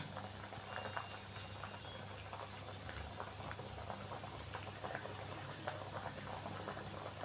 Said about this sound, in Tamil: மாங்காய் சேர்த்த பிறகு நல்லா ஒரு கொதி வந்துருச்சு